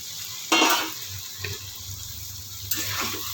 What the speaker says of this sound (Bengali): এবার আমি পটল ভাজাটা দিয়ে দিলাম।